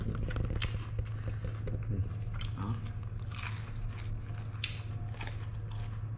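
Crunchy bites and chewing of Korean fried chicken up close, with scattered crisp cracks over a steady low hum in the background.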